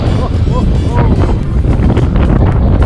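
Strong wind on a rocky seaside point in France near a lighthouse, a steady close roar buffeting the microphone throughout, with a faint voice underneath.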